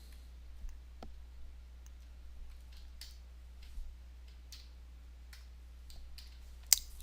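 Soft, scattered keyboard clicks tap out at irregular intervals in a quiet room over a low electrical hum.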